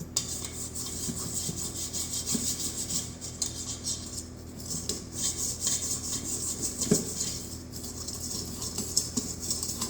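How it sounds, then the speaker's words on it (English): A whisk scrapes and rasps around a bowl of chocolate chip cookie dough in close, uneven strokes, with a dull knock now and then against the bowl. "you might as well just use the whisk and just go around"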